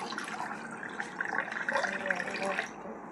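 Water pours in a steady splashing stream, rising slightly in pitch as a container fills, close by with no talking.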